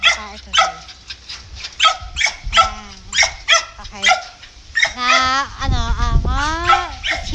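A dog barks in sharp, close bursts, then yips and whimpers in higher drawn-out cries, loud and near, while a person speaks briefly between the sounds.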